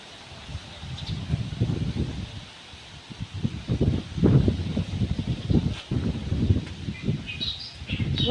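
Outdoor wind gusting and rustling against the microphone, with faint bird chirps now and then in the background.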